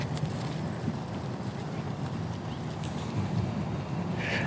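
Horse trotting under saddle in a riding arena during a clinic, hoofbeats running steadily as a continuous rumble with light wind noise and no clear voices.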